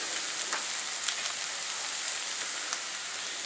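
Finely chopped tomato goes into hot oil with onions fried to a deep brown for a chicken roast, giving a loud, continuous, hissing sizzle with a few faint stirring ticks.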